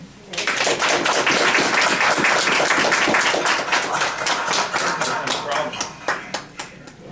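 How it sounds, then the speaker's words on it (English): A room full of people claps steadily for several seconds, the applause thinning into scattered individual claps near the end. "Please join me in a round of applause for Mr. Jamie Smith."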